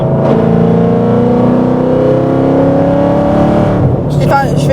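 Ford Mustang engine revving hard in a loud, sustained drone with rising and falling tones, then the pitch drops and a few sharp exhaust crackles and pops follow near the end, close by.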